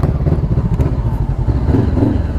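Honda CBR500R motorcycle engine running close by at a fuel station, a steady low throbbing rumble with slight rises in pitch, loud and continuous throughout.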